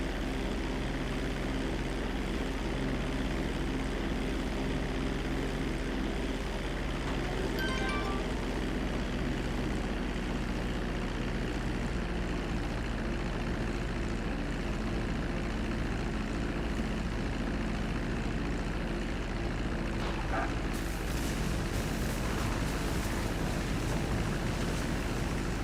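An airplane lands in a PS3 video game, its steady propeller-engine drone rumbling continuously and evenly at moderate loudness, with a faint brighter whine rising briefly near the middle and no talking.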